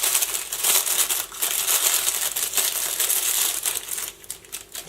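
A plastic mailing package from China with a multitool inside is torn open, giving steady close crinkling and crushing of plastic for about five seconds, with no talk.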